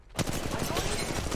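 Rapid, loud automatic gunfire in Apex Legends Mobile, a dense close burst that runs nearly the whole clip.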